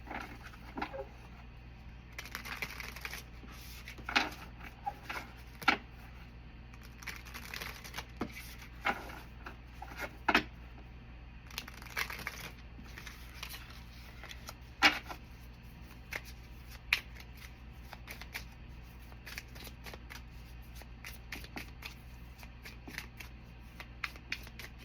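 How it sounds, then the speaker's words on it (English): A tarot deck is shuffled for a weekly Gemini reading, giving a long run of soft, papery riffles and shuffles with irregular sharp card snaps and taps over a faint low hum, quiet and close, with no talking. "So let's start shuffling the deck"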